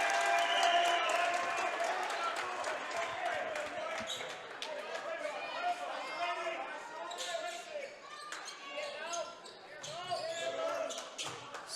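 Mystics basketball players clapping to rouse the crowd at a men's college game against Carroll, Montana, with scattered claps and a sneaker-squeaking, bouncing gym din beneath a commentator talking throughout.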